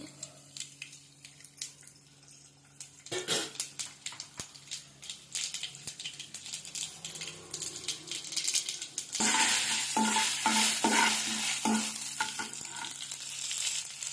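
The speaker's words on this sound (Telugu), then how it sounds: "పోపు దినుసులు వేసుకుందామండి." Spices crackle and sizzle in hot oil, quiet at first, then a loud burst of frying with sharp popping and stirring scrapes toward the end.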